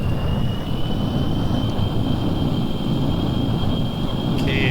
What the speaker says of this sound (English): Blackbird ready for takeoff.